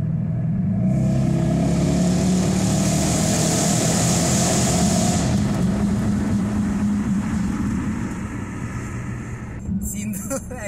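A Dodge Charger SRT8 (LX) V8 revs hard to high rpm, a loud, close, sustained engine roar with a rising whine that eases near the end.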